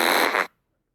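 A single fart, loud and close, a buzzy blast lasting about half a second before cutting off into silence.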